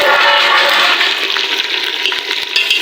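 Meat tipped into a pot of browned onions sets off a loud, steady sizzle and hiss of hot oil for Degi-style aloo gosht, continuous and close with no voice over it.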